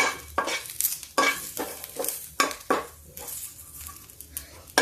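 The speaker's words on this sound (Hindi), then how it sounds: "अब इसमें तेज पत्ता और 2 लौंगे डाल देते हैं।" Bay leaf and two cloves fry and crackle in hot oil while making whole masoor dal, with sharp clattering stirs and spatters in uneven bursts, close and fairly loud, no talking.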